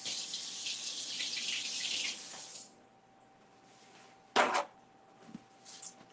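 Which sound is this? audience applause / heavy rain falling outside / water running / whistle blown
water running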